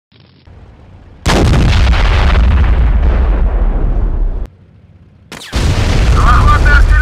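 Artillery in a war game set in eastern Ukraine near Slaviansk and Donetsk thunders in two long, loud rumbling barrages, each several seconds of dense booms and blasts separated by a short quiet gap, with faint radio-like chatter.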